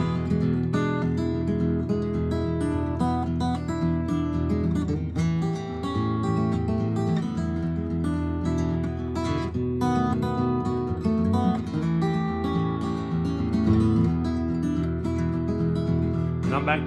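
Acoustic guitar break fingerpicked with the thumb and the back of a finger instead of a pick, a steady run of plucked notes and bass strings played continuously and close up, with no talking.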